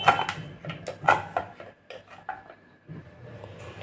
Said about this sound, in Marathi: आता आपण ती थोडीशी अशी कट करून घेऊया